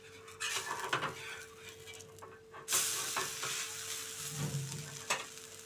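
Dosa from leftover idli batter sizzling and crackling on a hot pan, with scraping and clinking of a spatula as it is flipped, a sharp hiss flaring midway, close and fairly loud.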